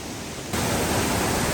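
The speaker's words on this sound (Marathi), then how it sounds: "धबधब्याच्या जवळजवळ पोहोचत आहोत. पाण्याचा आवाज तुम्ही ऐकू शकता." Rushing water from a waterfall near Pale village, a broad steady roar that jumps louder partway through and then holds constant and close, with no voices.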